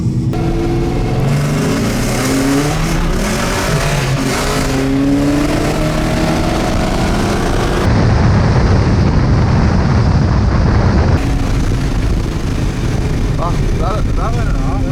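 A 550 hp supercharged Ford FG XR8 roars hard at a Brisbane roll racing event, its engine note climbing through repeated rising sweeps, loud and close, with a harsh burst of noise midway and speech mixed in.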